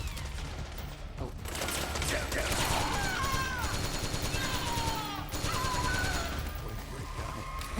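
Gunfire bursts from the video game Metal Gear Solid 4 rattle steadily under a dense, busy game soundscape, with brief tonal chirps and some voice activity mixed in.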